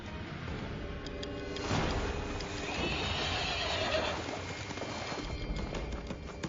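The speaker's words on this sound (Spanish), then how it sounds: "Uno de los animales que le da una ventaja imbatible a cualquier humano que lo pueda domar es el caballo." A horse neighs, a drawn-out whinny rising and falling over a steady, dense background wash.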